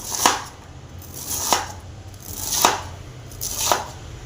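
A knife chops through a cabbage on a board in four evenly spaced, crisp strokes about a second apart, each with a sharp crunch. The cuts sound close and alone, with low background hum and no talking.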